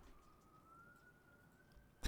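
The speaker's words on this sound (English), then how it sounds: "It just cuts to sirens" A faint, thin siren tone rises slowly in a video game's Midtown map music. It stays quiet behind low background noise and ends with a brief louder burst.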